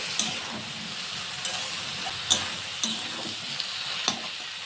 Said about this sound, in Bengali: লঙ্কাটাকে দিয়েও একটু নেড়ে ছেড়ে নেব খুব ভালোভাবে